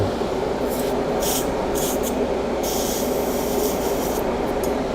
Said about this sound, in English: Just spraying this off camera.